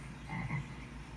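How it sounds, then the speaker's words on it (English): A tree frog by a pond gives one short, low, raspy croak, close and clear, with a faint noisy outdoor background and no talking. "That's a tree frog."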